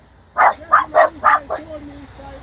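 A dog lets out a quick run of four or five loud, close barks, then falls quiet with a faint whine, at a Nashville, Tennessee spot.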